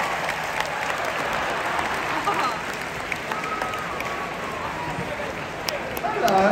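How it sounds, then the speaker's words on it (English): A large arena crowd at the London International Horse Show cheers and applauds steadily during a dog race, with a continuous roar of clapping, an announcer's voice over it, and a swell at the end. "Come on, cheer them on."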